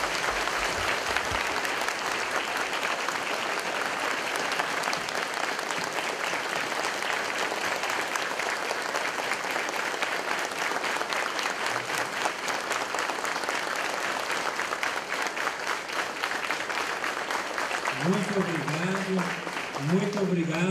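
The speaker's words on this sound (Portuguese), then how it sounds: "pedir à comunidade que dê uma forte salva de palmas também" A church congregation applauds steadily and loudly at a Lutheran temple inauguration, the dense clapping sustained throughout, with a voice briefly heard near the end.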